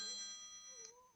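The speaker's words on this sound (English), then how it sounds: "Then it rings a bell to tell you that it's the end of the day." A bell chime from FusionPOS point-of-sale software at end of day, a faint electronic tone with sustained ringing partials that fades over about a second.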